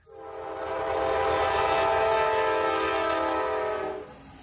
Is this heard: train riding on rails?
yes